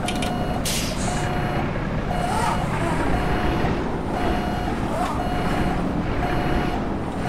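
A Peterbilt 379 truck in American Truck Simulator rumbles heavily from outside, its deep engine drone steady and loud while a reversing beeper chirps at regular intervals and faint hissing air-brake bursts break in.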